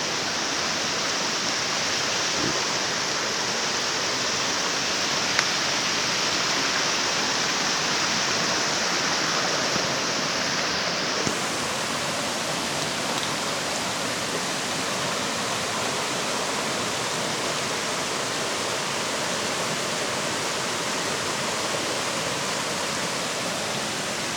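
A flowing stream along the Appalachian Trail rushes steadily for the whole stretch, a dense, even wash of water sound that stays close and loud with no talking over it.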